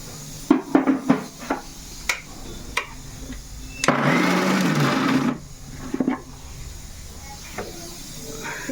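A mixer grinder whirs in one short burst of about a second and a half while grinding gongura leaves into a coarse paste, with scattered kitchen clicks and clatter before and after.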